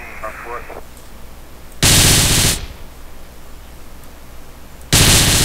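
Gunfire in Grand Theft Auto with a CLEO first-person camera mod: two loud bursts of rapid automatic fire, each under a second, separated by quiet game ambience.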